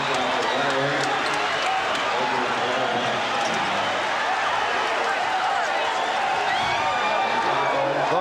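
An arena crowd roars steadily as the Chicago Bulls clinch the 1991 NBA championship in Game 5 at the Lakers, a dense, sustained wash of noise with a commentator talking over it.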